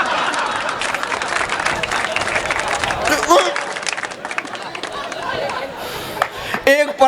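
An audience at a Nepali comedy performance applauds, a dense wash of clapping and crowd chatter that runs throughout, with a voice briefly rising near the end.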